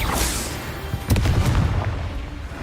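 Spell blasts from Confringo and Bombarda in Hogwarts Legacy, a sharp crackling burst followed by a heavy rumbling boom up close, amid other game noise.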